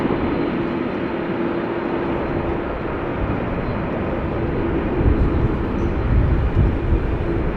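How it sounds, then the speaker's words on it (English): An Airbus A340-600 takes off from runway 24 at Amsterdam Schiphol, its engines producing a loud, steady, broadband roar that swells slightly toward the end, heard from a distance with no talk. "Suriname, flight 993, A340-600 taking off from runway 24"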